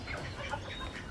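Chickens on a rooftop farm clucking softly while they eat their feed, a brief, faint burst of low murmuring clucks.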